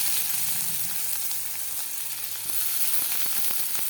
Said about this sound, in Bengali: বেশি তেল দেওয়া হলে যেটা খাসির মাংস, এখানেও তেল দেওয়া হচ্ছে। যে পেঁয়াজটা দিয়ে দিন।